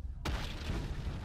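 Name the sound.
explosion in Ultimate Epic Battle Simulator video game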